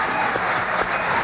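Crowd applause and cheering at the Windows 95 launch event, a dense, loud, steady wash of clapping from a large audience.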